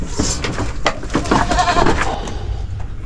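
Goats bleat repeatedly close by over a noisy outdoor background near a river, with several overlapping cries in quick succession.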